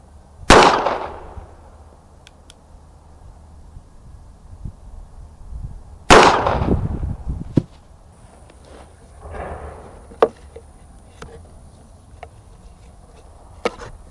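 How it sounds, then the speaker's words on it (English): Two sharp, loud shots from a Ruger LCP pistol with a 2 3/4 inch barrel firing 380 ACP Federal 95 grain full metal jacket rounds, about five seconds apart, each trailing off in a brief echo, with faint clicks and handling noise between them. "380 ACP Federal full metal jacket 95 grain of Ruger LCP with a 2 3/4 inch barrel."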